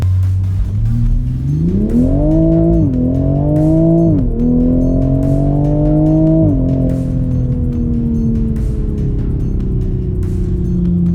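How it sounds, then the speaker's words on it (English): A tuned 2020 Toyota Supra launches hard from 0 to 60, its engine note climbing loudly through several quick gear changes before settling into a high, sustained cruise. "0 to 60 in 4 seconds flat for the first launch that I have ever done in the car with a timer"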